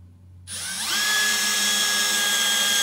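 A Milwaukee M12 1/2 inch hammer drill/driver in drill mode spins up and drives a 1.5 inch drywall screw, a close, steady high whine that holds its pitch as the screw goes in.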